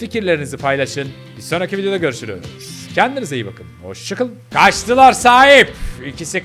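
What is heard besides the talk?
None of the usual background noises is heard.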